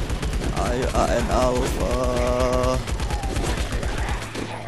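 Rapid automatic gunfire in the mobile shooter game LifeAfter, a dense continuous rattle of shots throughout, with someone talking over it.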